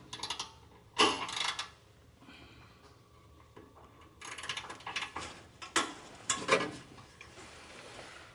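Ratchet wrench on a socket working under the hood of a 2022 Mazda3 turbo, with bursts of fast metallic clicking around one second and again near five to seven seconds, fairly close, over quieter rattling handling noise.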